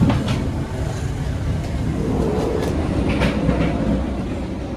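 Steady rumble of an Indonesian economy-class train rolling along rails between Yogyakarta and Malang, with faint rhythmic clatter of wheels over track joints, heard from inside a carriage.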